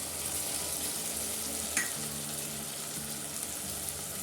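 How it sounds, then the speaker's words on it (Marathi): Garlic and ridge gourd thecha sauté in a hot pan, giving a continuous close sizzle with a light scrape of stirring partway through and no talking. "ठेचा आपल्याला एक मिनिटभर परतून घ्यायचा"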